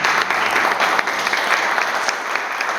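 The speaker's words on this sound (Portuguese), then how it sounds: "o Dr. Mário Silva, a quem eu peço uma salva de palmas" Audience at a forum gives a round of applause for Angola's vice-consul in Brazil, dense continuous clapping, close and fairly loud, with no talking over it.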